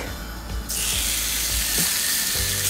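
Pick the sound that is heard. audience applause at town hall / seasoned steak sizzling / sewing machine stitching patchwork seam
seasoned steak sizzling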